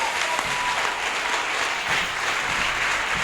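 A church audience applauds the Lord in a dense, steady burst of clapping that stays loud and even from start to finish, with no speech over it.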